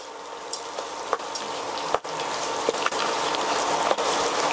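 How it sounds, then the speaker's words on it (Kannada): Chana dal and urad dal frying in hot oil for rava upma, a steady close sizzle with occasional light clicks and scrapes of stirring. "ನೋಡಿ ಕಡಲೆಬೇಳೆ ಉದ್ದಿನಬೇಳೆ ಇವಾಗ ಜೊತೆನಲ್ಲಿ ಬೇಯ್ತಾ ಇದೆ."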